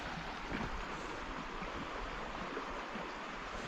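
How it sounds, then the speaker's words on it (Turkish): Steady rushing water from a swollen creek, a continuous broadband roar with no pauses and no voices. "Oo çay deremiz de coşmuş."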